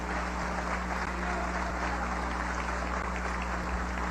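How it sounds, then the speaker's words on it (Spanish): Applause fills a session of the National Constituent Assembly, a dense, steady wash of many hands clapping that is loud and unbroken throughout, with a low hum beneath it. "Aplausos, por favor."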